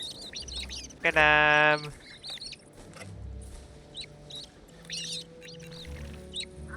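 Gallimimus calls from the Prehistoric Kingdom video game: a loud, rapid buzzing honk near the start, then scattered chirping calls over a low ambient bed, with a brief shout early on.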